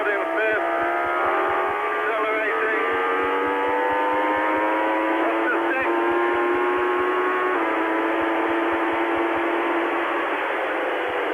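A racing car engine accelerates through third, fourth and fifth gears out of a hairpin on a circuit lap, heard loud and close and unbroken, its pitch climbing in steps with a clear drop at each gear change.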